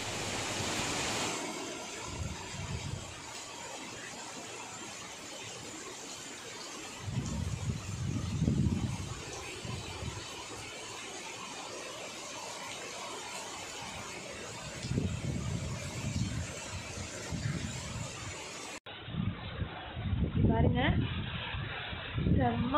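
Heavy rain and strong wind outdoors in a village, a steady broad roar of downpour and gusts throughout, with bursts of louder wind swells and a voice speaking over it.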